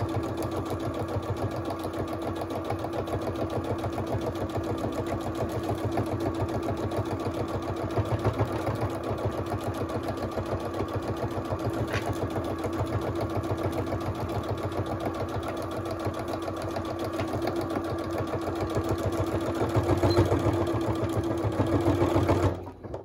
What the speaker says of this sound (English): I'm going to sew right down the middle.